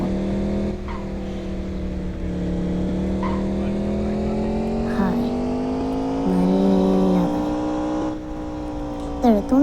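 Engine of a car driven in the video game Indian Theft Auto drones steadily, its pitch rising gradually as it accelerates, with a few short synthetic beeps and effects over it, loud and close.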